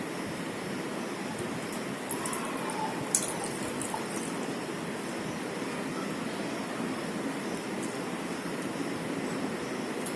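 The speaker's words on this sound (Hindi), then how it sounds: "आप जैसे कि देख सकते हैं मेरे पास 2 ग्लासेस हैं और मैं इन दोनों ग्लासेस में पानी डालूंगी।" Water poured into two glasses, a steady, continuous splashing hiss that runs evenly throughout, fairly close and with no talking over it.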